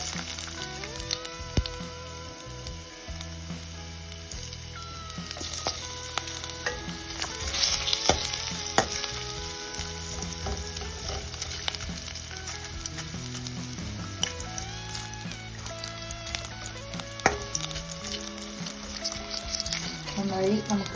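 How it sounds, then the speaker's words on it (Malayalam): Ginger frying in coconut oil in a pan, a steady close sizzle with stirring scrapes running throughout, fairly dense and even with a few louder crackles. "ഇനി നമുക്ക് ഇതിലേക്ക് വെളിച്ചെണ്ണ ഒഴിച്ച് നമുക്ക് ഇഞ്ചി ആദ്യം വറുത്തെടുക്കാം."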